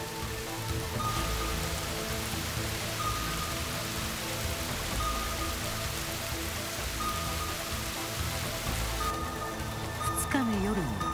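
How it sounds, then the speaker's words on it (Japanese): Heavy rain pours down steadily and loudly throughout, a dense unbroken hiss on the road during a wet drive across Kyushu, with a brief rising tonal sweep near the end. "雨足はさらに増してきました。"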